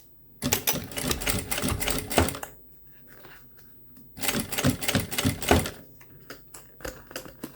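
Sewing machine stitching a fabric cord pouch closed: two loud, rapid bursts of mechanical clatter, each about two seconds, separated by a quiet pause with faint handling sounds.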